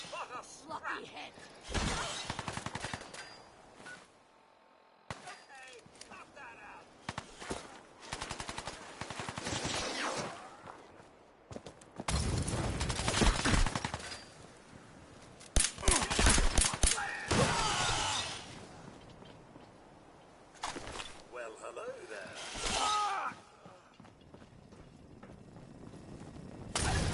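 Gunfire in Fallout 4 rings out in repeated bursts and single shots, loud and sharp with quieter gaps between, alongside game sounds and brief voices.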